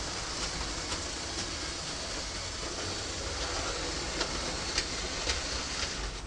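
A model train locomotive runs on a layout track, giving a continuous rumbling whirr with faint rhythmic clicks close by, steady throughout with no talk.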